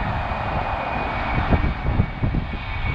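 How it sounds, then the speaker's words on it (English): A fixed-wing passenger airplane's engines roar steadily at LAX airport, a loud, continuous broadband rumble heard from roadside with no speech over it. "Look at this plane over here."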